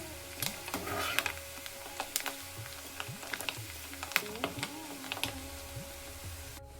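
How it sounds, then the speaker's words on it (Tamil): Grated coconut frying in ghee for temple-style chakkara pongal, a steady soft sizzle with frequent small crackles and clicks of a spoon against the pan, no voices. "அது வரைக்கும் நெய்யில் வறுத்துருங்க"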